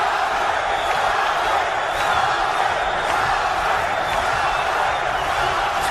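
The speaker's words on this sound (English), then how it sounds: "This crowd trying to push Guerrero." Boxing match crowd cheering in the late rounds of a professional bout, a dense, continuous roar filling the arena at a steady level with faint shouts mixed in.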